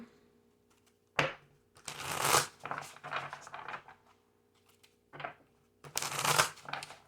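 Tarot cards are shuffled in several quick riffling bursts, crisp and close, separated by short pauses of near silence.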